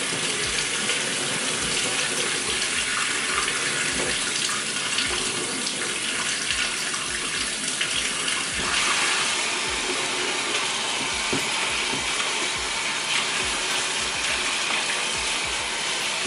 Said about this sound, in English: it's just so much easier to just turn the water on and get to flushing